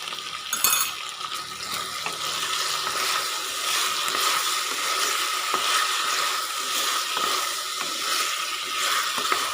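Potato pieces sauté in a hot pan for a crispy potato fry, giving a steady, bright sizzle with scattered crackles and a brief scrape of stirring near the start, heard up close with no voices.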